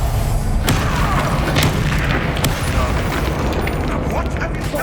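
Fire-blast spell explosions in the Hogwarts Legacy video game set in the Forbidden Forest, repeated loud booms amid continuous battle noise, with characters shouting over them.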